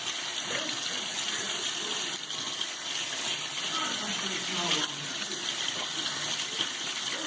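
Tap water runs into a sink as hands are rinsed clean of oil-based paint, a steady, close, continuous splashing flow that lasts throughout without a break and with no voices over it.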